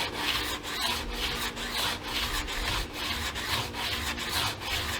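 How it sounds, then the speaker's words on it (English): Sandpaper rubs steadily back and forth across a stained wooden guitar fretboard, a close, continuous rasping scrape with regular strokes for the whole stretch and no talking. "And now I just need to sand it a little bit."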